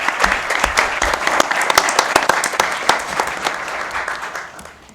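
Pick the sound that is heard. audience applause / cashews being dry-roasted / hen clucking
audience applause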